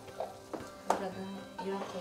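Onions frying in sunflower oil in a pan during preparation of Syriac-style stuffed kibbeh, a soft steady sizzle with a few stirring scrapes, close and moderately quiet.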